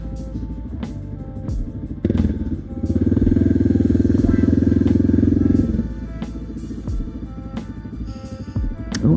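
Motorcycle ride on a road toward Talkeetna, Alaska, with a steady engine rumble and wind noise throughout, swelling louder for a few seconds mid-way as the bike accelerates, then settling back to a cruising drone.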